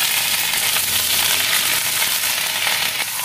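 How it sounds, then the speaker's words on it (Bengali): Ginger garlic paste frying hard in butter and oil in a hot pan, a loud, dense, continuous sizzle with faint stirring scrapes and no voices. "একটু ভাজা ভাজা হবে, একটুখানি"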